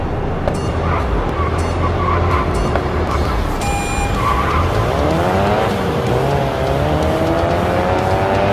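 Race car from the mobile game Racing Master skidding through a corner, loud engine roar with rising gear-shift whines and a sustained tire squeal, steady and close throughout, with a voice speaking at times over the game sound.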